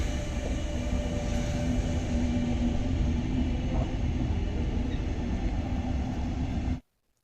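A German double-decker regional train runs past with a steady loud rumble and rolling rail noise, a faint tonal whine riding on top, continuous for several seconds before cutting off abruptly to near silence.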